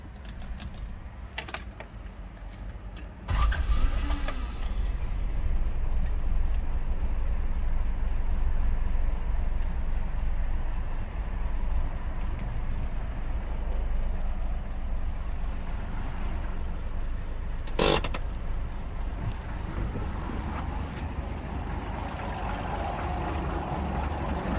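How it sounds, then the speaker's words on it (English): A 1985 Toyota Land Cruiser engine cranks and catches a few seconds in, then holds a steady, close rumbling idle for the rest of the stretch, with a brief sharp click partway through. "I'm just going to do a quick startup of our 1985 Toyota Land Cruiser."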